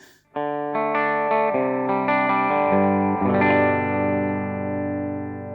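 An electric guitar with a Suhr DSH bridge pickup plays a rising run of distorted notes through a Supro Black Magic combo amp with a touch of reverb, loud and close, ending in a sustained ringing chord.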